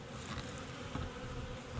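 A dense, steady buzz of many bees flying close by, continuous and fairly quiet, with individual insects briefly swelling louder as they pass.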